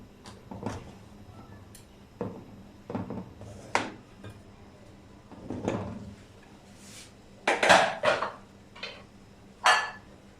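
The lid of a pot of mutton pulao is lifted, producing scattered metallic clinks, knocks and scrapes of cookware in short irregular bursts, close and fairly quiet.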